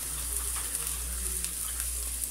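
Garlic sautéing in a pan as filling for puto pao, a steady close sizzle and crackle with faint stirring scrapes throughout.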